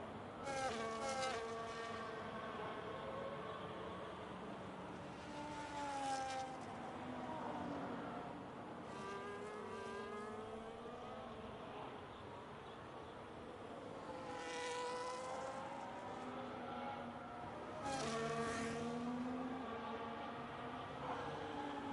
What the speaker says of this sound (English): Through turn 7 goes the Sauber car.